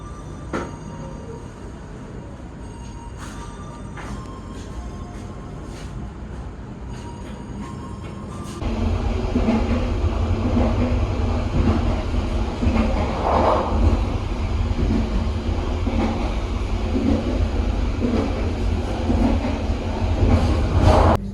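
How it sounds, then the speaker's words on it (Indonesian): Sangkuriang passenger train at Caruban station, a rail rumble that jumps sharply louder partway through into a heavy, sustained roar with rolling wheel noise close by. "Ini kereta api Sangkuriang berhenti di stasiun Caruban."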